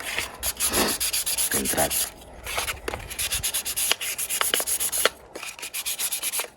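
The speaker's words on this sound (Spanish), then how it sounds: "y vamos lijando una pieza tras una pieza" Sandpaper rubs back and forth across Nintendo 64 plastic shell parts in quick, rhythmic hissing strokes, close and fairly loud, with brief pauses between bursts and a single word spoken at one point.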